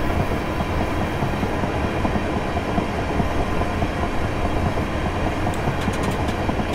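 Train running on rails in Train Simulator 2019, a Southwestern Railway service between Littlehampton and Portsmouth, with a steady rolling rumble and faint rail noise throughout, no voices.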